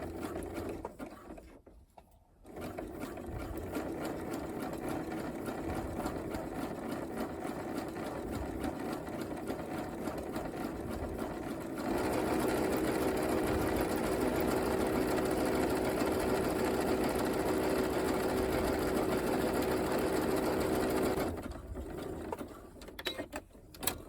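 A domestic sewing machine runs a zigzag stitch along a gusset seam, its steady motor whir and needle clatter continuing for about twenty seconds, growing slightly louder midway, with brief pauses at the start and end.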